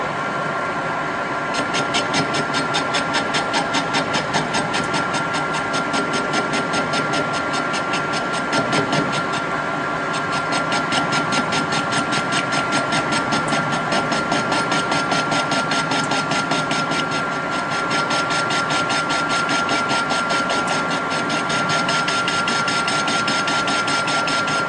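A metal lathe takes a light, intermittent facing cut with an insert tool on a sawn workpiece. It makes a steady, moderately quiet mechanical whir and hum that runs unbroken throughout, with no talking.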